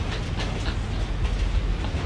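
Train cars clatter steadily along rails in a continuous rumbling run, with rhythmic clickety-clack beats over a heavy low rumble, fairly close and alone without voices.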